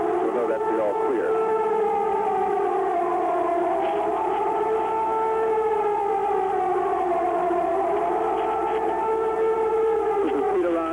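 Civil defense air raid warning siren sounding over Baghdad during wartime bombing, a continuous loud wailing tone with slowly rising and falling pitch, steady for the full stretch with no voices over it.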